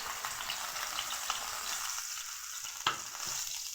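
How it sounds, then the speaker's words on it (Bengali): Onion paste sizzles vigorously in hot mustard oil, producing a dense, steady crackling hiss that briefly dips and then returns with a sharp spatter, with no voices. "পেঁয়াজ পেস্ট করে রাখা পেঁয়াজ দিয়ে দেবো গরম তেলের মধ্যে"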